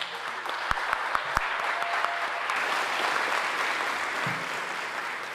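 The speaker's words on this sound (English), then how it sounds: "another round of applause for them." Audience applause at a 2025 Martin Luther King awards ceremony, steady sustained clapping from a room full of people with a few sharper claps early on, moderately loud throughout.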